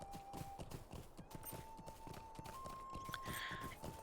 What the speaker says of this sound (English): I'm gonna ride around on Trout in his armor for right now